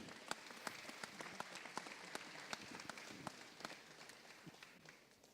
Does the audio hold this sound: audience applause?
yes